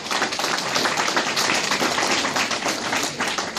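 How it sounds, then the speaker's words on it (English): An audience of people applauding teachers with sustained, dense clapping that stays loud and even throughout, with no voices over it. "Let's give the teachers a round of applause."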